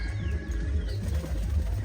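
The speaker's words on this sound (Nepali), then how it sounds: "यता परेवा पनि छ" Pigeons cooing softly at an urban farm among chickens, low repeated coos blending with ambient farmyard noise, with faint chirps higher up and no talking.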